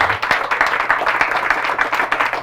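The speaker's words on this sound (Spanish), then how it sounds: "Fuertes aplausos al Señor Jesús." A church congregation claps for Jesus during a Catholic service, producing a close, continuous patter of many hands with rhythmic accents standing out, loud and alone without speech.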